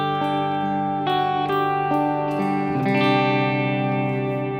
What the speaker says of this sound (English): Next is a plate reverb that I've got set pretty washy.